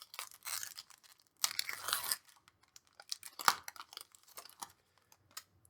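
Foil wrapping crinkles and tears as an Adventures in the Forgotten Realms Magic booster pack is ripped open, with close, sharp bursts of tearing and crackling followed by scattered rustles.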